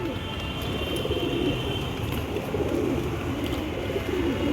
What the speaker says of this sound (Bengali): সব পায়রা হেলদি।